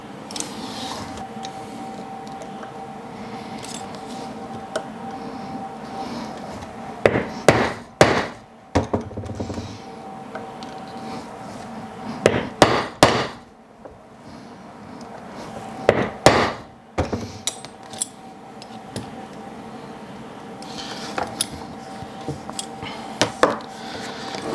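Hammer doming rivets on a leather dog collar over a heavy anvil, clusters of sharp metallic taps in quick bursts separated by pauses, close and fairly loud.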